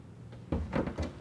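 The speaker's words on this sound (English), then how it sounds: "and the door just pops off." A kitchen cabinet door is unclipped from its hinge: a quiet click, then a firm clunk and a rattling pop as the door comes free, close and fairly loud.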